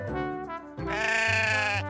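A small goat bleats in a few wavering, harmonic calls, with a long drawn-out bleat in the second half. It is close and fairly loud, and no one speaks over it.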